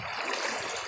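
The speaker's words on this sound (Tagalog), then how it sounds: "Ilog." River water where people bathe flows and rushes steadily in a brief, close, full-bodied wash of sound.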